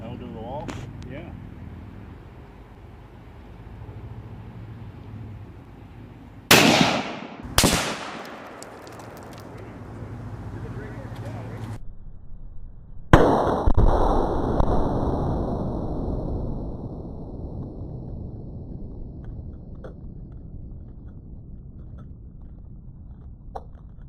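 Gunshots fired at a concrete cinder block outdoors, two sharp loud cracks close together followed later by a third booming shot that rings and decays slowly, with people talking between.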